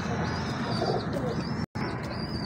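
Pigeons coo softly over a busy, noisy background, with a few faint chirps mixed in.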